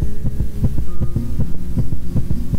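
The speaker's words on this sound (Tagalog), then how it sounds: "Ganyan ang nagiging tibok ng puso mo." A heartbeat sound effect thumps in a steady, quick rhythm of paired low beats, loud and close over a constant low hum.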